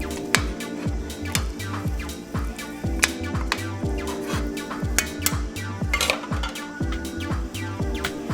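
A spoon stirs simmering oxtail curry stew in a pot, with steady rhythmic scraping and clinking against the metal repeating roughly twice a second, close and clear, without talking.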